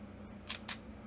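A camera shutter fires in two quick, crisp mechanical clicks a fraction of a second apart, close up and clear over a low steady background hum.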